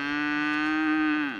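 A single long, loud moo from cattle on a ranch in Ferry County, Eastern Washington, a steady tonal call held close to the microphone before tapering off at the end.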